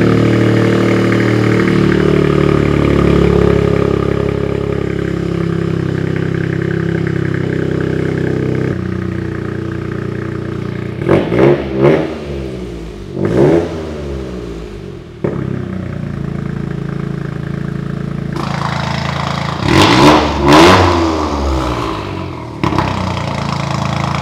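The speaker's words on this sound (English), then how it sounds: "Let's start it for the people. Start it. Let's hear it." A 2023 GR Corolla fitted with an aftermarket downpipe and prototype exhaust, valve closed, idles steadily, then two sharp revving bursts around the middle and another cluster of revs later, loud and close.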